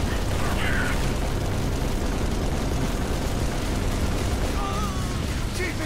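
Frag grenade blast in Halo amid loud, dense gunfire and combat noise, a continuous roaring wash with bursts of booms throughout.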